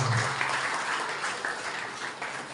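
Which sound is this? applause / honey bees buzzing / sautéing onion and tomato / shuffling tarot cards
applause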